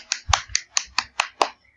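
A classroom of students gives a short burst of applause, about seven crisp claps in an even, quick rhythm, close and clear, ending abruptly.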